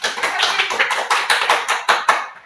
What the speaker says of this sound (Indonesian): kita tepuk tangan dulu untuk Grace ya.